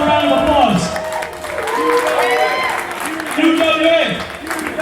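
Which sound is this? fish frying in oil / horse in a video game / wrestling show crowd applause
wrestling show crowd applause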